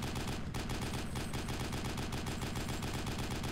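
Continuous heavy gunfire in Arma 2, a dense, loud stream of rapid automatic shots with a brief dip near the start, then unbroken firing throughout.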